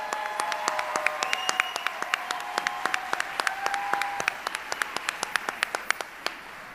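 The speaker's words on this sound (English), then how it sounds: "One more time, one round of applause." An audience at a teacher awards ceremony claps steadily, many hands forming a dense, sustained applause with sharp individual claps standing out throughout.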